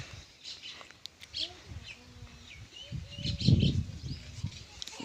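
Pigeons make soft calls and chirps scattered over low outdoor background noise, with a brief low rumble near the middle; fairly faint and close.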